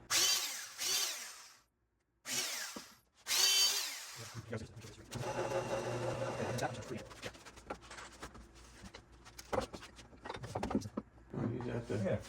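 A power drill bores into the wood of an outdoor swing during restoration, with a sustained, fairly loud whirring grind running for several seconds after people talk.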